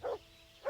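Two short dog barks in the medieval open-world game Kingdom Come Deliverance, one at the start and one at the end with a quiet gap between, moderately close and alone.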